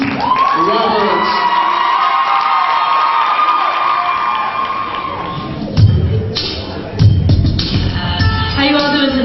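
High school idol talent show audience cheers, whoops and shouts loudly for a singer, with bursts of applause and children's excited yells, while a voice speaks over the noise.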